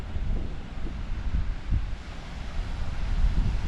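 Strong wind buffets the microphone while cycling along the sea coast in Normandy, a continuous low roaring rumble with gusty swells and no voices.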